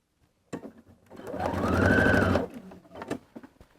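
A sewing machine stitches a shirt sleeve into the armhole, a close, rising-and-falling whir of about two seconds, bracketed by soft clicks and fabric handling.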